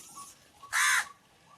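A single crow caws once, a short harsh call standing out clearly against a quiet garden background.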